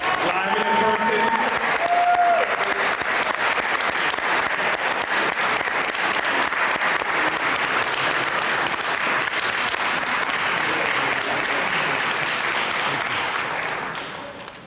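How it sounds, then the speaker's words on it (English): Sustained applause from an evening awards-ceremony audience welcoming a guest speaker, loud and steady for about fourteen seconds before tapering off at the end, with a voice briefly heard over it near the start. "If we can, have a round of applause for Bill Fletcher Jr., live and in person."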